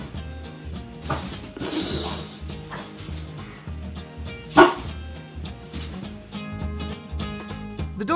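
A French Bulldog gives a few short, sharp barks, one especially loud near the middle, over a bed of music with hissing spray sounds mixed in.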